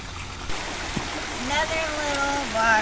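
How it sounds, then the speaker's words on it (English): Water rushes steadily from a small waterfall, a continuous splashing stream heard outdoors with faint voices and other sounds over it. "Another little waterfall."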